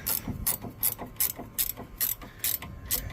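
A ratchet wrench is cranked to tighten a trailer hitch clamp, giving quick bursts of sharp metallic clicks in a fast, repeating rhythm, close up and alone.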